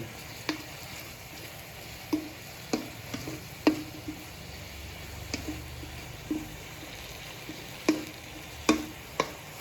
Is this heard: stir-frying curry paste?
yes